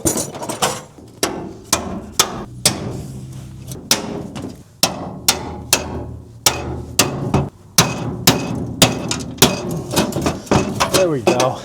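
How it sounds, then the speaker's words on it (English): Loud, close hammer blows strike a rusted wheel on a K5 Blazer again and again in uneven bursts, each ringing clang followed by a short pause. "Let me get some hammer, some persuasion."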